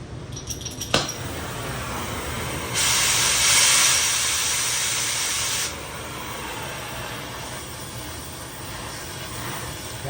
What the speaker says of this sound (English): So let's get the torch going.